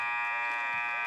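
Loud, steady electronic game buzzer sounding the end of the half at a college men's basketball game, a harsh continuous drone under crowd noise and commentary.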